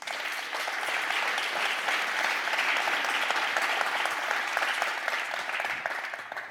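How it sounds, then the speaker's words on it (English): An audience at a space conference panel on quantum technologies applauds steadily for the panelists, a dense, sustained clapping that fills the room at even loudness throughout. "A big hand of applause to them."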